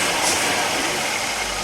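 A 1991 Audi 80 B3 with a modified air intake idles nearby, giving a steady, even rumble with broadband hiss and no change in pitch across the short stretch.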